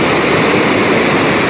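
Storm water rushing past large boulders, a loud, dense, unbroken roar of turbulent flow heard close up, with no voices.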